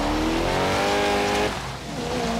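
A car in Forza Horizon 3 roars close by, its engine revving up in a rising whine with tyres squealing, then dips briefly before building again.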